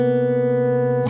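Two sustained fingerstyle guitar notes ring together a semitone apart, producing a sour, beating clash that holds steadily before cutting off with a brief scrape.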